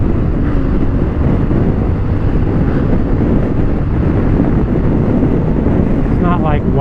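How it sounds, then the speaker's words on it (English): A Honda Africa Twin motorcycle cruises at freeway speed around 5,000 RPM, a constant engine drone heavily mixed with loud wind rush on the microphone, with a rider speaking over it. "The motor is not working hard at all to go freeway speeds."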